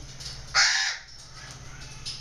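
Baby pied crow giving one loud, close, harsh caw, with faint quieter calls trailing after.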